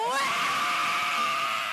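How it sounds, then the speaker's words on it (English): High screeching vocal from Ireland's Eurovision Song Contest entry, a sustained, piercing shriek with a rising wavering pitch that holds loud for under two seconds. "That Screeching was from Ireland's entry into the recent Eurovision Song Contest"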